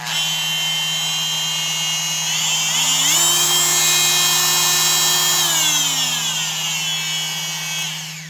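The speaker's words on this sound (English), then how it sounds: "We'll do one more listen to the Dremel." A Dremel High Power 5 Amp Multi-Max oscillating multi-tool runs steadily with a high, buzzing whine; its pitch climbs midway, holds, then drops back before it winds down.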